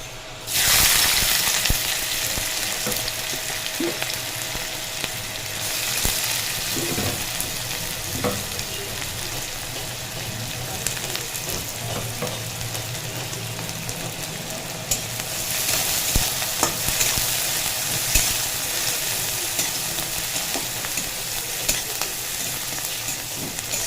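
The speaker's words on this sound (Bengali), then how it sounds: "তেল গরম হয়ে গেছে এবার দিয়ে দেব পেঁয়াজ কুচি" Chopped onion dropped into hot oil in a pan, a loud sizzle bursting in and continuing steadily with occasional stirring scrapes, close and without speech.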